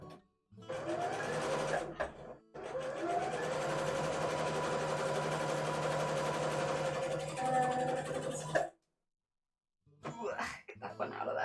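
A sewing machine runs in one long steady burst while stitching a Eurovision outfit with pins still in the seam, then stops, followed by a brief shorter run near the end; loud and close.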